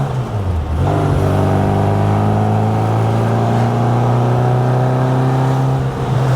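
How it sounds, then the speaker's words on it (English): A 1960 Bugeye Sprite with a brand-new 1275 engine, five-speed gearbox and performance exhaust revs and pulls away nearby, its loud steady engine drone climbing in pitch after a brief dip and holding a strong harmonic tone throughout. "the car is superbly tuned up and set up with a 5-speed and a brand new 1275 engine"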